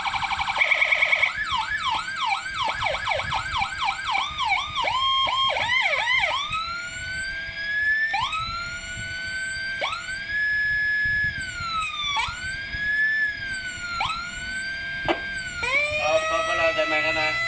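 Loud electronic sirens from a 200-watt 118K siren box through an AS 150 speaker cycle through several patterns: rapid yelps, then long rising and falling wails, with faint background noise underneath.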